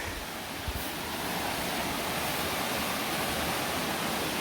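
Swollen River Gelt rushing after heavy overnight rainfall, a loud, continuous broadband roar of fast water heard close by, steady throughout with no voices.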